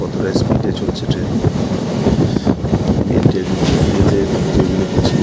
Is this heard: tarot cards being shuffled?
no